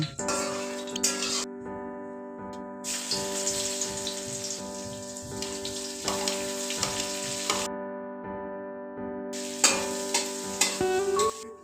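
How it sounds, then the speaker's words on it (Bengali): Garlic paste and chili paste frying and being stirred in a pan, a steady close sizzle with scraping spoon strokes, broken by short quieter gaps, with no talking. "রসুন বাটা আর লঙ্কা বাটা হালকা নেড়ে নেব যতক্ষণ না কালারটা চেঞ্জ হয়েছে"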